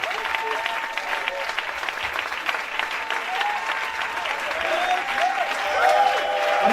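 Applause from a church congregation fills the room with steady, dense clapping that swells slightly toward the end, with voices faintly mixed in.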